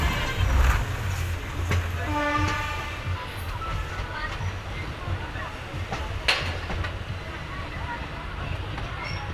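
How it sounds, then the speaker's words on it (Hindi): Gwalior to Bhopal intercity train pulls into platform 1 at Guna Junction. A low, rolling rumble is heard with a short tonal whine early on, while faint voices murmur in the background. "अब हमारी ट्रेन प्लेटफॉर्म नंबर 1 पर पहुंच रही है।"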